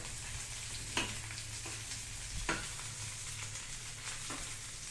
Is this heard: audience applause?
no